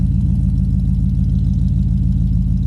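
A 1972 Buick Skylark GS idles through its dual exhaust, a steady, deep rumble with an even low pulse that holds throughout without revving.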